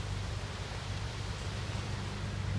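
Steady winter wind in Rio Grande do Sul rushes past as a constant low, even roar, moderately quiet and unbroken throughout, with no voices.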